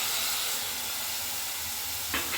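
Fried butter paneer in a hot pan gives a constant, dense sizzling hiss close by, with a brief louder clatter near the end; no voices.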